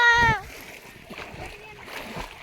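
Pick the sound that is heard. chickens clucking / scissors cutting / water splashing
water splashing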